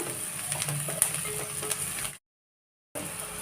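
Onions sizzle steadily in a hot pan for a rajma masala curry, a bright crackling fry with occasional stirring clicks, then a short gap of silence before the sizzle resumes.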